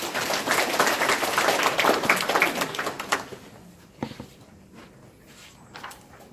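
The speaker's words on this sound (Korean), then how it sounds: "다시 한번 박수 부탁드립니다" Audience applause at a Korean food and drug safety forum in Seoul, a dense burst of clapping that fills the room for about three seconds and then thins to scattered claps.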